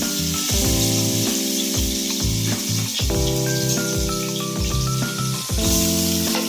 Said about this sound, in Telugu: అల్లం వెల్లుల్లి, అల్లం వెల్లుల్లి వేయాలి. ఆయిల్ కాగింది కదా